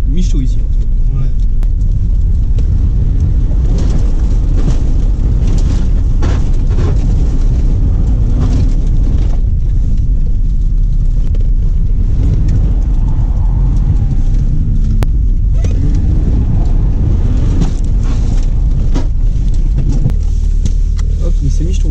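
A BMW E30 drift car with a swapped engine roars and rumbles loudly and continuously nearby, with voices talking over the engine noise.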